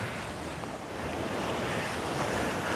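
Ocean waves wash around a point onto a sandy Hawaiian beach, a continuous, fairly loud roar of surf mixed with wind buffeting the microphone, with no voices.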